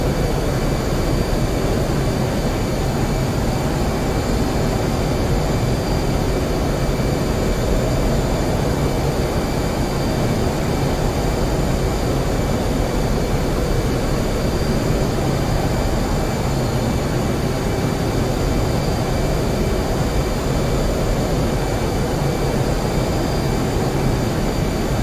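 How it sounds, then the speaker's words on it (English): Steady, loud jet engine roar from a military aircraft in the DCS flight simulator, a constant broadband drone with high whining tones that holds unchanged for the whole stretch with no talking. "Aircraft turning base now."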